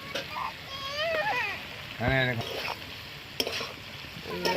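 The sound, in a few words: stirring and frying chhana balls in curry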